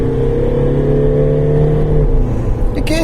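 A car drives an off-road course in its middle drive mode, its engine droning steadily and close with a smooth, unhurried pitch that dips slightly near the end.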